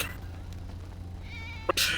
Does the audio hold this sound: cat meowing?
yes